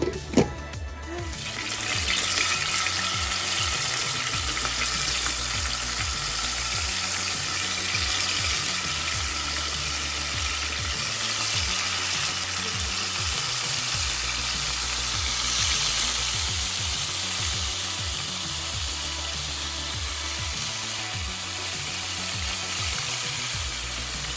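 Lentil fritters frying in hot oil, to be cooked with rohu fish, give a steady, loud sizzle that runs continuously for the whole stretch, with faint stirring underneath.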